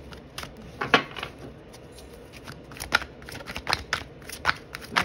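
A deck of oracle cards is shuffled by hand, with irregular sharp riffles and soft papery slaps and flicks, close up in a quiet room with no voices.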